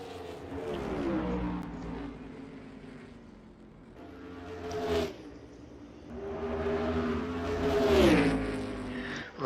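Stock-car engines in a video game Custom Cup race at Chicagoland roar past in rising and falling waves, revving high and swelling louder as cars approach, with no talk.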